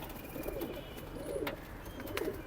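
Pigeons cooing at a Sunday pigeon market in Saddar, Karachi: soft, low, repeated coos in a slow rhythm against constant crowd and street background noise.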